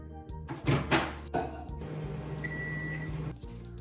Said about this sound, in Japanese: こちらの牛乳を6、70度に電子レンジで温めていきます。